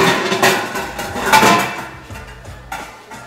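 A cooking pot is pulled from a kitchen cupboard amid clanking metal cookware and knocks, a few close rattles and bumps over about three seconds.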